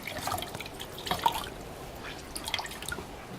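Water is squeezed out of an animal skin by hand, giving soft close drips and trickles in a quiet room, faint and irregular.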